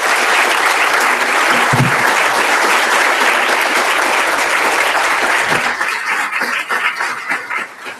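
Warm, sustained applause from a large audience at a press award ceremony, loud and dense for several seconds before thinning out and fading toward the end.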